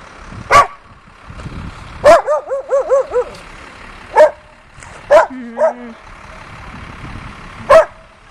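A puppy gives sharp, scattered barks and yips outdoors in blizzard snow, a few isolated loud calls with one quick string of yaps and quiet gaps between.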